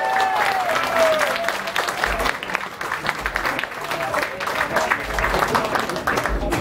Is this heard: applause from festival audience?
yes